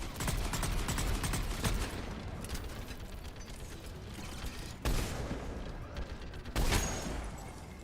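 Sustained rapid turret gunfire from the Mass Effect video game, a dense continuous roar of shots with louder bursts near the end, heard without any talk.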